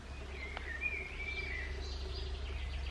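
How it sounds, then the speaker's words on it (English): Faint, high chirps from a small baby bird rise and fall over steady low background hum, a few thin calls heard outdoors with no talking. "Oh, it's a little baby bird."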